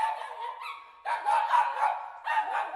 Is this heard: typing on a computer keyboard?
no